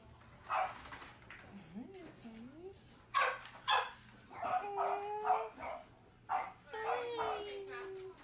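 Dogs at an animal shelter yip, whimper and bark in short bursts, some sounds rising into whines. People talk between the bursts, and the animals sound close.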